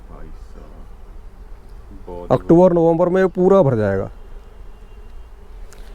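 Honeybees buzz in a honey hive as a low, continuous hum, while someone talks in Hindi over it for much of the stretch.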